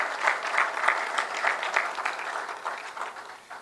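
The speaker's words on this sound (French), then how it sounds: "nous ne ferons pas d'économie en applaudissant frénétiquement cet engagement chaque année renouvelé" An audience at a press-freedom ceremony applauds, a dense wash of hand claps with slight swells, moderately loud and continuous, tapering a little at the end.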